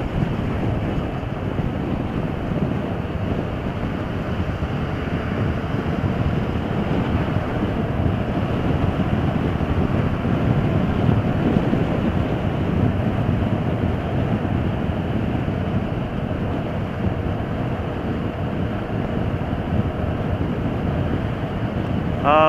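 A 2015 Yamaha FZ-07 motorcycle is ridden steadily in fifth gear, its engine drone buried under constant heavy wind buffeting on the microphone, a loud unbroken roar throughout.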